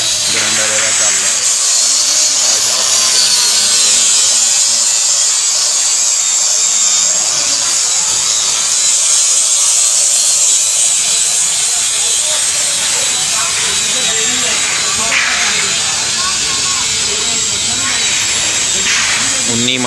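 A grinder runs during repair work on a thresher machine, giving a continuous high, buzzing whine for the whole stretch, loud and close, while someone talks over it.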